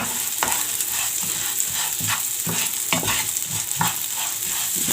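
Vermicelli toasting in a pan is stirred steadily, a continuous close sizzle broken by repeated scraping strokes of the spoon, with no voices.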